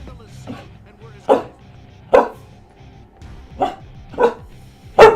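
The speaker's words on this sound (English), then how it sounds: "She has like a certain frustrated bark." A frustrated dog gives a series of sharp, separate barks, five or six spaced about a second apart. The barks are close and loud over a low background hum, with no talk between them.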